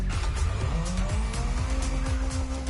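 A car in a racing video game skids through a handbrake turn, with loud tire squeals over a revving engine that rises and falls, close and continuous for a few seconds.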